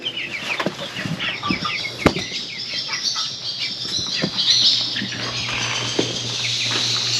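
Chickens in a coop pen cluck and squawk while wings flap in bursts, a busy, close flurry of fowl calls and fluttering over a steady background hum.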